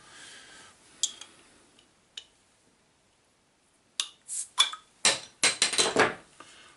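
A bottle of Brew Dog Funk X Punk IPA being opened, with a few isolated clinks and cap clicks, a pause, then a burst of sharp glassy clatters and pouring splashes close by.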